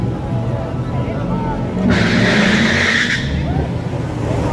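A silver Camaro drag racing at the track roars past, with a brief burst of tire squeal and engine noise over a constant crowd and track din. A voice speaks over it.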